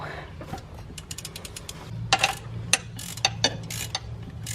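A hand wrench ratcheting on a car bolt in a driveway, giving quick runs of sharp metallic clicks in uneven bursts, close up over a low hum.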